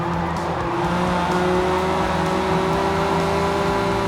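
A Honda NSX-R at Road Atlanta droning loudly at high revs, its steady engine note holding then shifting slightly as it drops into fifth gear, with no talk over it.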